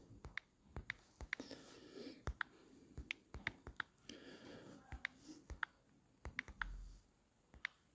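Fingers typing a question on a phone or computer keyboard, producing quiet, close, irregular taps and clicks in quick runs with short pauses, with no voices.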